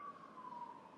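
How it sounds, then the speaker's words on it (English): A siren in downtown Honolulu wails faintly in the distance, a single drawn-out tone sliding slowly downward against low traffic rumble. "Sorry for the sirens."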